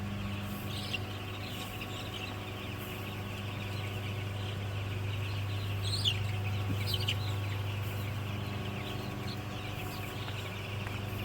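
Young broiler chickens in a poultry shed cluck softly and intermittently over a steady low mechanical hum, with a few slightly louder calls near the middle.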